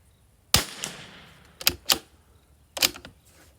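Rifle shots fired with Eley Team rimfire ammunition ring out as sharp, loud cracks, one isolated report followed by a quick pair and a later single, each with a short decaying tail.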